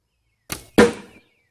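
An arrow released from a bow and striking a target: a short whoosh, then a louder, sharper impact thud about a quarter second later, close and clear with no talking.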